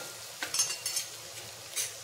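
Ghee is stirred into food in a pot in a one-pot meal, giving soft, faint scraping and light clinks of a spoon against the pot in a few short bursts over quiet background.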